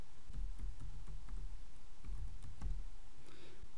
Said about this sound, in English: in the search box for setup, type in historical